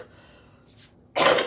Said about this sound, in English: My cough was pretty bad.